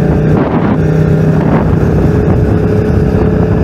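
A loud motorcycle engine roars steadily throughout during a launch control test, with wind buffeting the microphone and a brief surge in pitch midway, no voices present.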